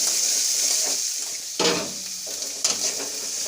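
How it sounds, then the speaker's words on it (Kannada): Chopped onions sizzle in hot oil with curry leaves for a tempering, a close, steady hiss broken twice by sharp bursts as the pan is stirred. "ಅದು ಈರುಳ್ಳಿ ಚೆನ್ನಾಗಿ ಎಣ್ಣೆಯಲ್ಲಿ ಅದನ್ನು ಬಾಡಿಸಬೇಕು"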